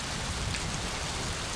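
Steady rain falls in Islamabad, a dense even hiss of drops with no voices over it.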